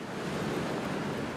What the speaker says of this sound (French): J'aime cette plage parce qu'elle est grande et qu'elle est propre. Et les vagues sont super.